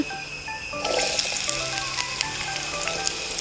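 Onion sizzling in sunflower oil in a pan, a steady close crackle and hiss with small pops throughout and no voices.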